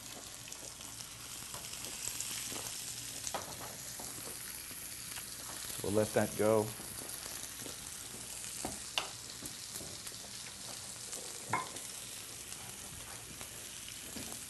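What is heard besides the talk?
salmon fillet searing in olive oil in a pan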